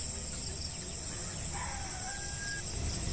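Free-range native chickens let out at dawn on a farm give a few faint calls, partly buried under a steady, hissing outdoor background.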